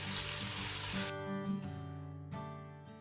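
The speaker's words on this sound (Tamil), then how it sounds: "இப்போ இந்த வெங்காயம் கொஞ்சம் நல்லா வதங்கட்டும்." Onions sautéing in a pan over medium heat for a Sri Lankan Jaffna-style spicy crab curry, a loud steady sizzle for the first second that drops to a quieter crackle with a few brief pops, no talk.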